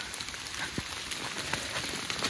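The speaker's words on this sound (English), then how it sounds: "It's very rainy." Steady rain falls outside an abandoned hilltop mansion, a constant broadband hiss with scattered drop patter throughout, fairly faint and without speech.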